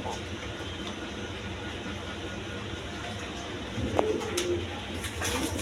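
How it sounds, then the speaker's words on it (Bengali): Pigeons in a breeding loft coo softly in the background, a low steady murmur with a few faint higher calls and a light knock near the end, no speech. "এখানে মূলত বাঞ্জা কবুতর।"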